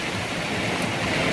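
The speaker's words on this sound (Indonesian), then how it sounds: "Terjadi hujan sangat lebat sekali" Very heavy rain with strong wind pours down in the afternoon beside a railway line in Kalibaru, Banyuwangi, a dense, loud, unbroken roar of falling water close at hand.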